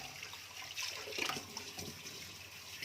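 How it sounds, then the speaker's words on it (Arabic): Running water splashes steadily into a sink as tripe is scrubbed with a brush, with soft faint scrubbing and splashing and no voices. "هنغسلها بقى كويس خالص كده اهو، خالص خالص برضو بالفرشه"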